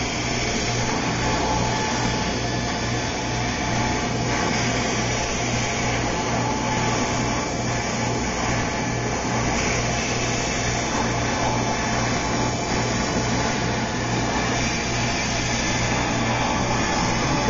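A King Instrument automatic machine runs on its cycle cutting out parts, giving a steady, loud mechanical whir with a constant low hum and bright high-pitched noise that holds evenly throughout, with no talking.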